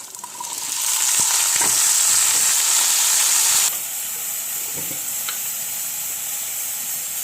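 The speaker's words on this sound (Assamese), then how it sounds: "বাকী তেলখিনিতে মই আলুখিনি ভাজি দিম" Onions and potatoes frying in oil, a loud bright sizzle that swells as they hit the pan and then settles to a steadier hiss with occasional stirring clicks.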